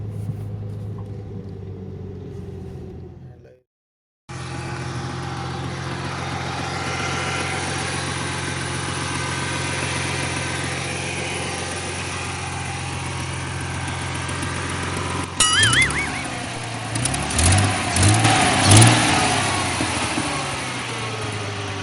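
A 2000 Ford Mustang engine idles steadily with a low, even rumble, then revs in a few short bursts near the end; a faint lifter tick runs through it, with no talking.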